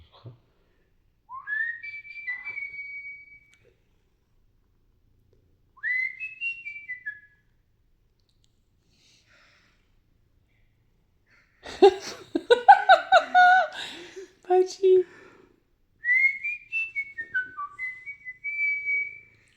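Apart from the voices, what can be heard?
person whistling, cat reacting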